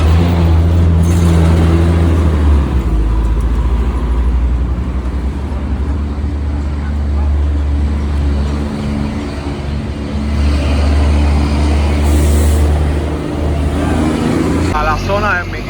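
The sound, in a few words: car traffic on a busy street in Cuba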